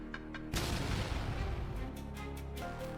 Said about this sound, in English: it resulted in a powerful explosion